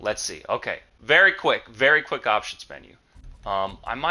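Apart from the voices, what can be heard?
No everyday noises stand out.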